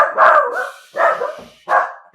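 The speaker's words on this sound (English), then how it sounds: "Sorry, that's my dog." A dog barks three times in a home recording space, each bark loud and close with short pauses between, no voices alongside.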